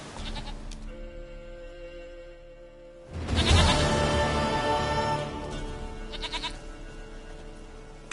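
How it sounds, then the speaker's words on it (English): Goat in the video game The Witcher 3 bleating, a short nasal bleat first, then a louder, longer wavering bleat mid-way and a fainter one near the end, over a quiet ambient game background. "goat of mine, dearest, sweetest goat."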